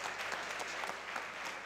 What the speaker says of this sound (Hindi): तालियां बजाओ यार जोर से यार।